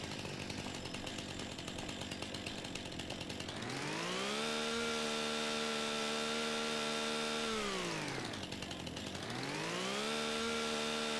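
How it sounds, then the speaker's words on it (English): Chainsaw cutting tree stumps in the video game Farming Simulator 25, a loud continuous engine whine that revs up high, holds steady, drops briefly, then revs again, with no talking. "Let me grab the chainsaw. I gotta get rid of these stumps."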